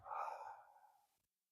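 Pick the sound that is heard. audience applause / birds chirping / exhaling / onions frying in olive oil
exhaling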